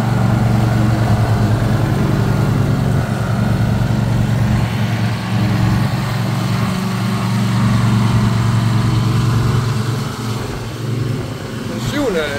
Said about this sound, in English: Husqvarna er 414 TC med 2-cylinder motor.